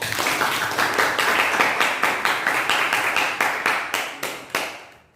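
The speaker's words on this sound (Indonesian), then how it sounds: "Beri tepuk tangan buat Andrea" A room of people claps for Andrea after a reading in a teacher-training class, a brisk rattle of many hands that holds steady and then thins into a few last separate claps before fading out.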